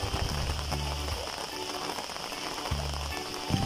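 Rain falls steadily at a mountain resort, a dense, continuous patter on surfaces that is loud and close, with a low hum coming and going beneath it and no voices.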